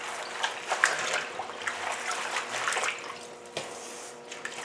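Kale and turnip greens swish around in a pan of water, giving close, continuous splashing and sloshing with small irregular surges.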